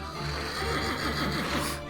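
A horse neighs in a short, fairly faint whinny heard through a dense, noisy background, lasting about two seconds with no talk over it.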